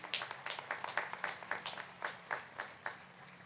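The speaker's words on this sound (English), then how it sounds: "Can we give them a round of applause" Scattered audience applause at a spring college graduation ceremony: a thin, uneven run of separate hand claps, fairly faint and fading in and out with no voices over it.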